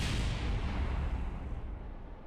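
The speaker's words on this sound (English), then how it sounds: "That's a big series of explosions." Rumbling series of explosions in the Kerbal Space Program video game, a dense sustained roar with heavy low boom that fades slightly over a couple of seconds, with no voices.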